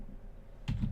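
Keys tapped on a computer keyboard in a brief flurry of soft, close clicks that begins after a moment of quiet, with no voices.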